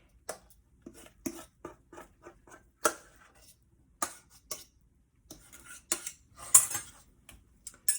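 Jackfruit mixture is scraped and tipped from a pan into a baking dish, sparse close clinks and soft scrapes of utensil on cookware with quiet gaps between.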